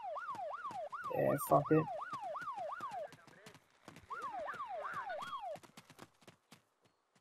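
Police car siren in the video game ArmA 2, wailing in repeated rising-falling sweeps through most of the stretch, pausing about a second before resuming; a voice talks over it and a crash of clattering noise briefly overlaps early on.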